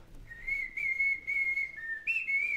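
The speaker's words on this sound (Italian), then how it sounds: "Io mentre vado in giro fischietto la nuova cosa che sto proponendo" A person whistling a tune, a single clear sustained melody line with small pitch shifts, close and alone, with only faint room noise beneath.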